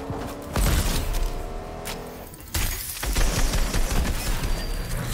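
A sniper rifle fires in a shooter video game, with sharp, loud cracks breaking over a busy, clattering background of gunfire and mechanical game noise.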